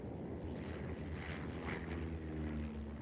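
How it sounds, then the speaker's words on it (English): Carrier-launched propeller warplanes from the Korean War era drone overhead, a continuous engine roar with a steady low hum holding throughout at moderate loudness. "The carrier-launched prop planes were now joined by Navy jets."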